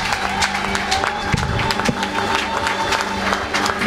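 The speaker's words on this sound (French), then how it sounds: "Sous vos acclamations, nous l'invitons à prendre place" A church congregation at a Sunday service claps and cheers as a speaker is welcomed, a dense crowd roar with scattered sharp claps and a faint voice in the background.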